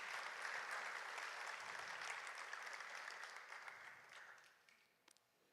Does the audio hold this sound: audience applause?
yes